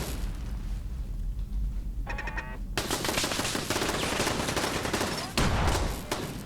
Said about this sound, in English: Goddamn explosive machine guns.